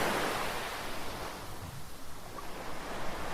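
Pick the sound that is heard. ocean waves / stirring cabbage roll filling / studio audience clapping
ocean waves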